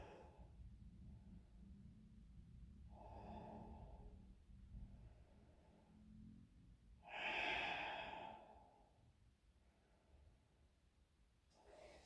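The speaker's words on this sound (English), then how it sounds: "Just breathing." Slow, quiet breaths come from someone resting in child's pose during a yoga session, with several soft inhale and exhale cycles and one fuller, louder breath near the middle, heard close and alone.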